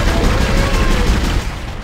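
Weapons fire in the Dead Space video game as a dense, loud burst of rapid shots and booms for about a second, then eases off into fainter rumbling.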